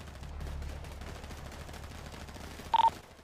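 Gunfire in a GTA V roleplay street shootout at a seaside hotel, a steady muffled rattle of shots at moderate distance with a brief sharp electronic beep near the end.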